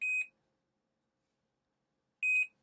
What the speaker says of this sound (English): Now if I bring it close to this cable, it will beep.